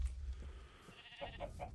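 Sheep bleating in the Minecraft video game, a few short wavering bleats heard close and fairly clear over a low background rumble, with no talking.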